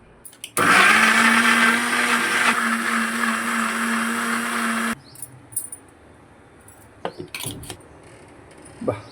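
A mixer grinder whirs loudly at high speed for about four seconds, grinding onions and tomato pieces into a paste, then stops, followed by a few light clinks and knocks.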